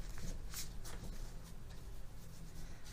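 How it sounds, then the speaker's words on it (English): A deck of tarot cards is shuffled softly and close by, a run of quick papery riffles and rubs at low volume with no talking. "We'll do a few more shuffles, then I'm just going to start laying them out randomly."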